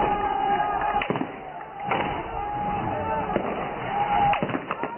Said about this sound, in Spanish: se escuchan disparos, pero también largos períodos de silencio